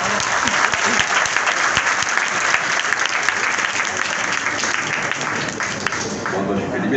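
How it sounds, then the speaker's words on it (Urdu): Loud, sustained applause from a seminar audience welcoming motivational speaker Qasim Ali Shah, dense clapping filling the hall throughout and easing slightly toward the end. "آپ کی بھرپور تالیوں کی گونج میں میں دعوت سخن دیتا ہوں قاسم علی شاہ"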